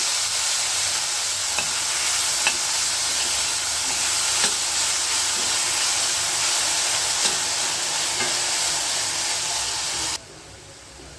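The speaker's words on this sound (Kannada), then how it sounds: "ಈರುಳ್ಳಿ ಸ್ವಲ್ಪ ಫ್ರೈ ಆಗ್ತಿದ್ದ ಹಾಗೆ ನಾನು ಒಂದು ಮೀಡಿಯಂ ಸೈಜ್ ಟೊಮೊಟೊನ ಕಟ್ ಮಾಡ್ಕೊಂಡಿರೋದು ಹಾಕ್ತಾ ಇದ್ದೀನಿ" Onion and tomato sizzle steadily in a pan for a South Indian dish, a dense, even hiss that holds for about ten seconds and then drops away sharply.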